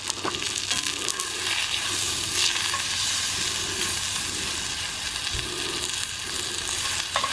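Steak sizzles and fries steadily on a camp stove outdoors, a dense, constant crackling hiss close by with a few soft scrapes and clicks, and no talking.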